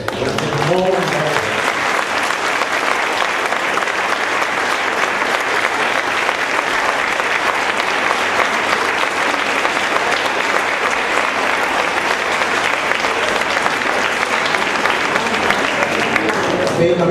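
Sustained, loud audience applause after an amateur theatre performance, dense steady clapping from a full room lasting many seconds without pause, with voices blended faintly into the crowd.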